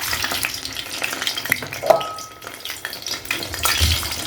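Stuffed intestines (mumbar) fry in hot oil in a pan with a constant, crackling sizzle. Occasional sharper pops and a light clink of utensils stand out over the steady frying.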